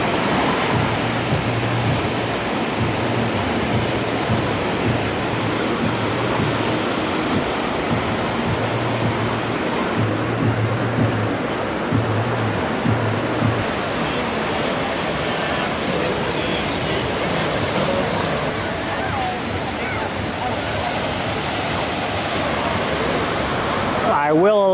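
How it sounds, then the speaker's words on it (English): Ocean waves wash onto the shore at Atlantic City beach as the tide comes in, making a steady, broad roar of surf that stays loud through the whole stretch. A low hum or murmur sits faintly underneath in the first half. "The tide is coming in."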